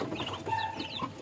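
Newly hatched chicks from a homemade incubator, placed in a cardboard box, give soft peeping and chirping calls up close over a faint background hum.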